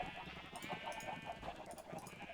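Sheep bleats in Minecraft with the Buildcraft mod, a couple of short wavering calls over a busy background of game sounds, moderately quiet and brief.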